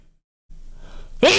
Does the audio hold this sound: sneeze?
yes